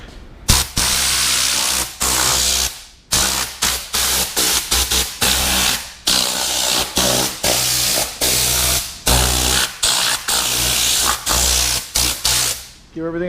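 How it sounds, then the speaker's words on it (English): An air-powered Tornador spray gun blasts enzyme cleaner onto the vinyl interior of a 1990 Honda Civic, loud close hissing bursts in repeated short and longer pulses with brief gaps between them. "what I like to do for the vinyl is I take my Tornador with a little"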